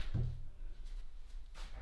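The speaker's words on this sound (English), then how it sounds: "You know, the door shuts." A warped wooden cabinet door shuts with a dull thud, followed by a softer knock and faint rustling nearby, with no voices.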